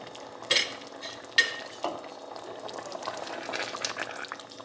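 Veal stew with red spring onions simmers in a covered pot, soft bubbling and gentle popping with a few louder blips, quiet and close.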